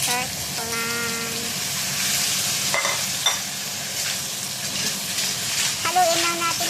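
Pacific razor clams hit softened tomatoes in a hot pan and are stirred, giving a steady close sizzle with scraping and a few brief tonal squeaks over it.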